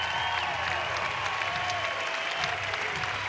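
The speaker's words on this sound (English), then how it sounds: "an ovation for Kleinschmidt heading to the dugout by this record crowd at Goss Stadium at Coleman Field" A record crowd at Goss Stadium at Coleman Field, home of the Oregon State Beavers, gives a standing ovation at a college baseball game, with dense, steady applause from the whole stadium and scattered cheers throughout.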